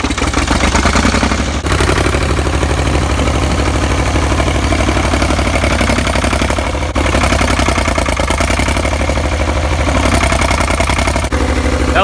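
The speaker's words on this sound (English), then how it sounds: "we're gonna take the tractor and run it into the rock piles, try to scoop up as much as we can" A tractor engine runs steadily and loud throughout as it drives into a rock pile to scoop rocks, a constant mid-low rumble with a couple of brief dips, no talking.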